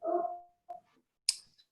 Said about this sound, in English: my loud dog has decided to start barking